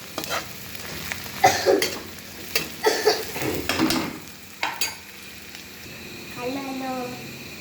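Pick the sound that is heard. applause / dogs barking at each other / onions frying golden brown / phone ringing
onions frying golden brown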